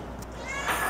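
A cat at an animal shelter gives a short meow that rises near the end, heard close over a steady background hum.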